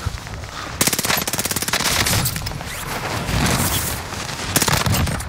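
An old-school BAR rifle firing in Call of Duty: Warzone, loud rapid bursts of automatic gunfire with sharp repeated cracks, a short pause, then more bursts.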